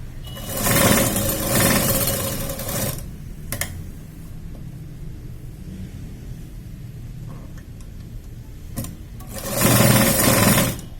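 A sewing machine stitches saree fabric and lining for a blouse in two loud, close bursts of rapid whirring at the start and end, separated by a quieter stretch with faint clicks and handling.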